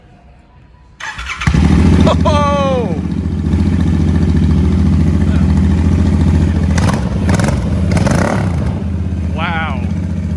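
Custom Royal Enfield motorcycle with a cut exhaust starts up and settles into a loud, lumpy, close idle with a couple of throttle blips, while people exclaim and react over it.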